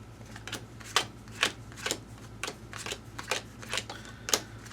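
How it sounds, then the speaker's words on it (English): A deck of cards for a Normandy WWII board game is riffled and shuffled, making about ten quick papery flutters and snaps in an uneven rhythm, close up and alone. "We have to shuffle."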